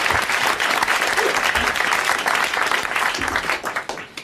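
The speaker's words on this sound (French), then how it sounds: "vous allez applaudir Madame Pournain d'Angoulême" Studio audience applause on a 1982 French television show, a dense, steady wash of many hands clapping that fills the whole stretch and thins slightly toward the end, with no talk over it.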